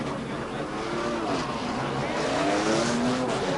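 NASCAR Busch Grand National stock cars race at Martinsville Speedway in 1990, a loud, continuous engine roar swelling as the pack accelerates on the green flag, with overlapping motors droning together.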